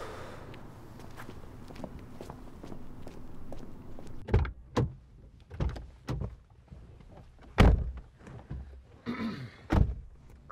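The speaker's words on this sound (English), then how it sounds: "Clay and Derek closed the car doors." Car doors closing: a handful of dull, heavy thuds spaced a second or two apart, each standing out sharply against a quiet background with faint shuffling in between.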